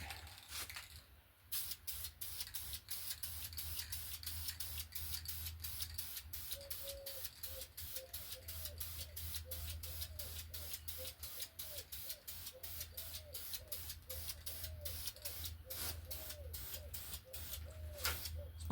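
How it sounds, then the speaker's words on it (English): A rattle can of spray paint hisses in a rapid series of short bursts onto a greasy motor, steady and close, with a low hum beneath and faint squeaky sounds midway. "Spray paint right over that grease."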